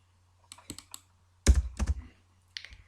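Typing on a computer keyboard during a chat, a few sparse close clicks, then a quick cluster of sharper keystrokes and a last pair of taps, with no voices.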